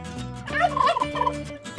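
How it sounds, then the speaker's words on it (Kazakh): A turkey gobbles once, a loud close rattling burst of rapid warbling calls lasting under two seconds, heard alone with no talking. "Бұл үндік"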